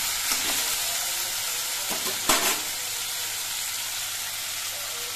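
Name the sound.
potatoes being stirred and fried in a pan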